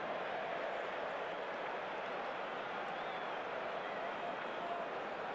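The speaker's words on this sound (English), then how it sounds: "The crowd are excited." Crowd noise in the rugby video game Rugby 08, a steady broadband roar of cheering spectators held at an even level throughout, with no voices talking over it.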